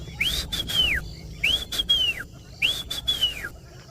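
Three clear descending whistled calls of a whistling duck (Dendrocygna), each a bright slurred note rising then falling, evenly spaced over a few seconds against faint background noise.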